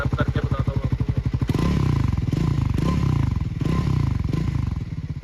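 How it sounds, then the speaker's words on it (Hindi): A Triumph Scrambler 400 X 400cc motorcycle engine idles with a pulsing beat, then revs up into a loud, rough exhaust roar that rises and falls several times. "बाइक को एक बार स्टार्ट कर लेते हैं एंड हम इसका एग्जॉस्ट साउंड सुन पाए"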